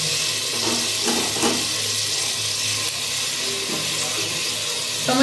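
Tomatoes sizzling as they sauté in a pan for brinjal biryani, a steady, close, watery frying hiss running unbroken throughout with no talk.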